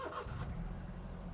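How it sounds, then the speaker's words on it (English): A Toyota iQ small car's engine starts with a brief cranking burst that settles into a quiet, steady idle, heard close and alone. "Should we start the IQ just to see that it starts fine?"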